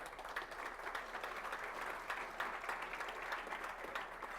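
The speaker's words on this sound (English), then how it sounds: "Smattering of applause for the people at the fairgrounds." A scattered round of applause from a city address audience, heard as light, steady clapping at a distance without a break.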